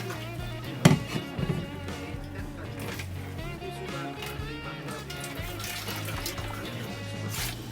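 Water trickles and splashes steadily out of the tap of a 25-litre beer fermenter during homebrewing, with a few louder knocks near the start and a continuous liquid gurgle throughout.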